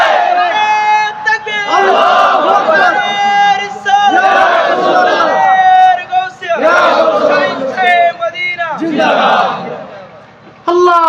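A large crowd at a Bengali Islamic waz gathering chants a religious slogan in loud call-and-response bursts, several rhythmic unison shouts separated by short pauses, close and forceful.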